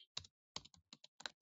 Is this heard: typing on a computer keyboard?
yes